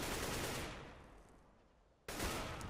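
Gunfire in the shooter Counter-Strike: Global Offensive sounds as a rapid burst that fades out, then another burst starts abruptly, fairly faint overall with no talk.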